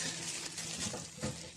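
Water is poured over a plastic bag in a home kitchen while shaping breaded cutlets, giving a steady close splashing trickle that runs throughout without talk.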